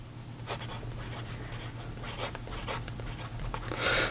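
A Benu Blue Frost fountain pen with a broad steel nib scratches across paper in short strokes and pauses, close and quiet over a steady low hum, with a brighter scrape near the end.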